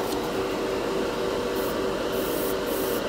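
Airbrush spraying Turbo Dork color shift paint in a wet final coat onto a rock, a steady close hiss of compressed air that holds even and unbroken throughout.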